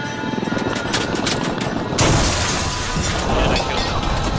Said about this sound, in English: there's a Russian chopper right in front of me